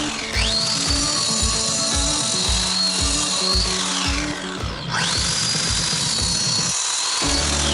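A 230 mm diamond disc cutting along marked lines during a house build, a loud continuous high whine that rises and falls as the blade bites, over rhythmic rumbling pulses, with no voices.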